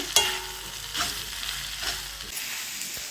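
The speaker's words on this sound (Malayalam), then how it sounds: "ഞാനിതിലേക്ക് ഈ കയ്പയ്ക്ക് ഇടാൻ പോവാണ് കേട്ടോ നല്ലോണം മിക്സ് ചെയ്യട്ടെ" Bitter gourd stirred into hot oil in a pan: a sharp clatter at the start, then a steady sizzle with periodic stirring swishes, close and moderately loud.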